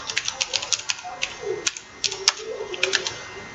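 Keys tapped on a computer keyboard while entering employee details into payroll software, a quick irregular clatter of close, crisp clicks with short pauses between bursts.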